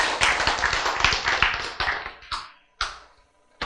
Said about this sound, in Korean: 박수, 여러분.